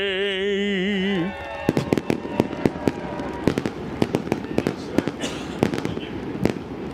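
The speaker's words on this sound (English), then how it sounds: "fireworks are going off down there" Fireworks going off at a raceway after a singing voice fades, a rapid irregular series of sharp cracks and pops, some loud and close, others fainter, continuing throughout.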